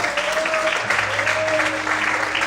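A church congregation claps for the Lord in continuous, even applause, with held keyboard chords and a faint voice running beneath the clapping.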